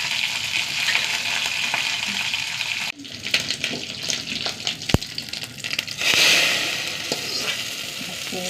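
Three dried red chillies and curry leaves fry in hot oil for a roasted-coconut sambar, crackling and sizzling close by, with a sharp pop midway and a louder surge of hissing later.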